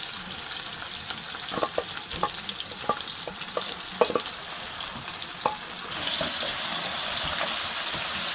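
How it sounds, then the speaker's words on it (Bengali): Chopped bottle gourd stirred and fried in a pan for a chicken and gourd curry, with a spoon clattering and scraping in uneven bursts over a steady close sizzle that swells louder toward the end. "এখন এই লাউটা আমি কিছুক্ষণ নেড়ে নিচ্ছি।"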